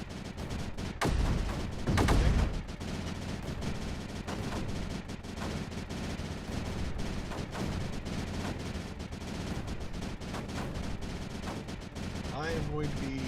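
Mortars firing in the video game Creeper World 4 form a dense, continuous barrage of booming shots under sustained game noise. A louder burst comes early and the firing keeps going without a break.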